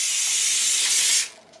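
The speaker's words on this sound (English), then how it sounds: "I'm just going to put a bit of" Cooking spray hisses from a can onto a potato before it goes into an air fryer: one continuous bright, close hiss lasting just over a second, then a sudden cut-off to near quiet.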